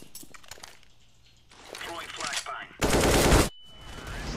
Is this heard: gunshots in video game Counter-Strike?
yes